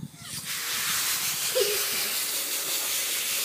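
Steady broadband spray of shower water rinsing a dog named Sparky, a continuous close hiss that holds level throughout with faint voices underneath.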